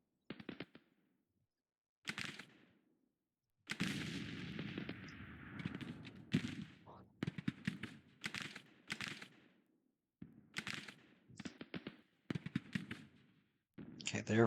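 Gunfire from a Civil War battle in the Grand Tactician strategy game: repeated crackling volleys in irregular bursts with short silent gaps, moderately distant and fairly quiet.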